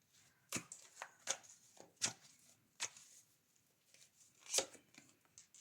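Tarot cards being shuffled and drawn by hand, a series of crisp flicks and riffles spaced irregularly with one louder snap near the end, close but fairly quiet.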